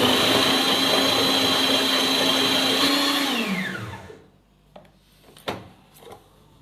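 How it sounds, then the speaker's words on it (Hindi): An electric chopper whirs loudly and steadily while chopping onions and chicken for kofta, then winds down and stops, followed by a few soft clunks of the lid and bowl. "प्याज को भी हम अच्छी तरह चॉप कर लेंगे"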